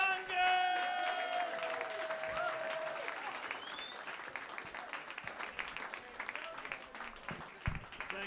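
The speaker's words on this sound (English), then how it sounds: "Keep it clapping for Rick Younger!" Audience at the New York Comedy Club applauding and cheering a comic's introduction, dense clapping throughout with whoops and crowd voices at the start, then settling into steady applause.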